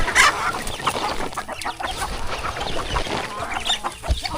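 Several farm chickens cluck close by in a busy, irregular chatter of short clucks and squawks, one brief higher call rising above the flock.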